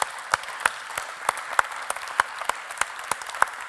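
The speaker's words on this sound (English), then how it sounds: "we might have a round of applause there" Applause at a university gathering comes through as a sparse scattering of individual claps, sharp distinct hits spaced irregularly over a quiet background rather than a full ovation.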